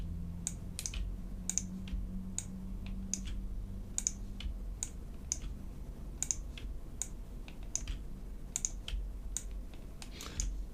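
Quiet, close-up keyboard keys and mouse clicks sound in an irregular stream of crisp taps over a low hum while someone edits a scene on a computer.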